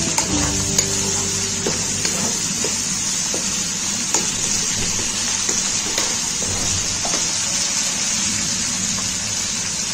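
Mutton pieces frying in a pot for a cauliflower-and-meat curry, a loud continuous sizzle with regular spoon scrapes and taps against the metal throughout, no voices.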